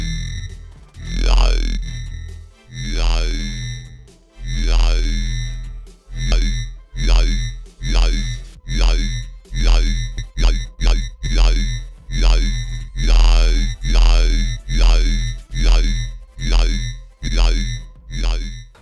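Serum yoi bass synth in a rhythmic sequence of loud, gliding, formant-like notes, the tone sweeping and morphing as a knob is turned, repeated phrases over about nineteen seconds with no talking.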